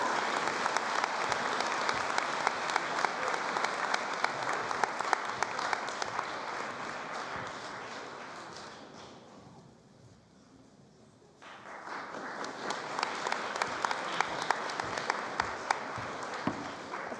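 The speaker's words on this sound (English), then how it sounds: "Please extend your applause to the 2024 Wellness Award recipient." Sustained audience applause at a school academic awards presentation for a wellness award recipient, a dense roar of clapping that dips almost to silence midway and then swells back up at full strength.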